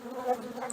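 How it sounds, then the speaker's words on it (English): Bees buzzing around a hive housing a newly caught swarm, a brief, fairly faint steady hum heard alone, lasting under a second. "So there's lots of bees here."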